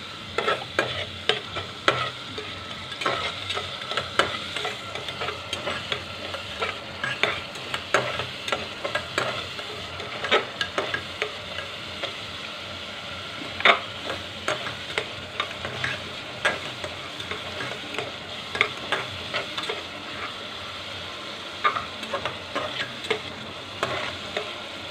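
Garlic-ginger paste fries with pointed gourd in a pan for a dhaba-style sabji, a continuous close sizzle broken by frequent sharp scraping strokes of a spoon stirring against the metal, with no talking.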